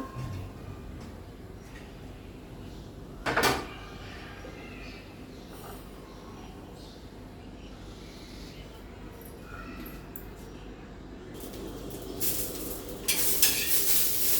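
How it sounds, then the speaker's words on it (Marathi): Faint, steady sizzle of green chillies roasting in a pan, with a brief clatter partway through and the sizzle swelling near the end. "मी मिरच्या भाजत आहे."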